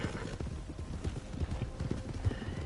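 Wild horses' hooves clip-clopping steadily in Red Dead Redemption 2, a dense, continuous rhythm of hoofbeats with an occasional faint whinny, moderately loud and without talk.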